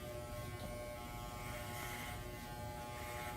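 Electric hair clippers fitted with a number 2 quarter-inch guard cut a man's hair, giving a steady, close buzzing drone that holds without pause and with no talking.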